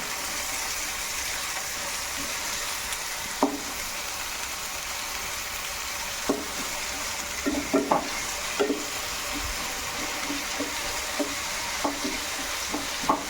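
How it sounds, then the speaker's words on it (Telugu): Onions frying in a pan, stirred with a ladle: a continuous sizzle broken by scattered scraping knocks from the ladle, close and fairly loud, with no voices. "ఇప్పుడు ఒక్కసారి మన ఆనియన్స్ని మనం కలుపుకుందాం గడ్డతోటి"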